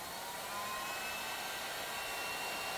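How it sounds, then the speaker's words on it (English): Heat gun blowing hot air onto heat shrink tubing over a damaged iPhone Lightning charger cable, a steady close broadband whoosh with a faint tonal whine, continuous and alone. "So I'm gonna turn the heat gun on."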